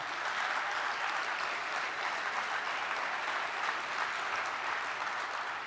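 A crowd at a political event featuring a U.S. senator breaks into steady applause, an even wash of clapping heard from a distance at moderate volume for several seconds.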